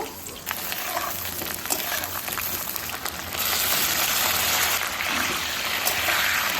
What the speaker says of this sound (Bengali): ওই তেলেই আমি ফুলকপিগুলোকে ভেজে নেব